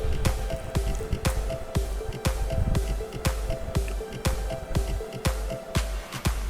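Thick Bengali mutton kosha curry being ladled into a bowl, giving wet squishy plops and soft clinks repeating steadily over a low kitchen hum, close by with no talking.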